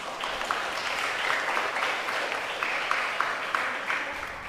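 A church congregation claps during a evening novena Mass homily, a fairly steady patter of many hands at moderate distance, with a few sharper individual claps standing out.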